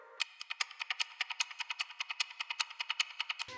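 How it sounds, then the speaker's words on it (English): Crisp clock ticks laid out as a rhythmic layer in an EDM future bass production, around two dozen bright, evenly spaced clicks at a fast steady pace, heard alone and up close. "For a sense of rhythm, I added clock ticks."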